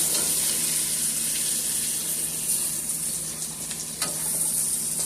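A whole red snapper fries in a pan after being flipped, giving a steady, loud, close hiss of hot oil with a few brief crackles throughout.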